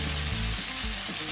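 Chunky pieces of Cajun chicken frying in a pan, a loud, steady sizzle with crackling spits and a low bubbling undertone, continuous and close with no talking.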